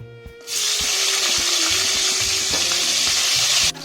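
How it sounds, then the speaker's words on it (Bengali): Pointed gourd (potol) dropped into hot oil in a pan, a loud hissing sizzle that starts abruptly and holds steady for a few seconds before cutting off, with background music playing. "পটলটা ভেজে নেব।"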